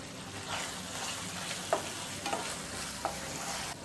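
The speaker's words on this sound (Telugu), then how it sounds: "తర్వాత యాలకుల పొడి వేసుకొని కలుపుకుందాం." Bread halwa (double ka meetha) being stirred in a pan after cardamom powder goes in, a low sizzle with a few soft scraping strokes of the spoon, close and fairly quiet, no voices.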